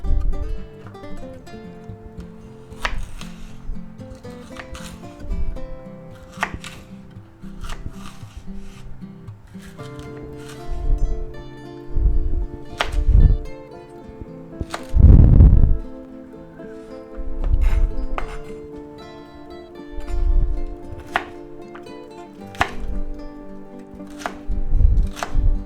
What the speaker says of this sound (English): we'll go ahead and cut up our pepper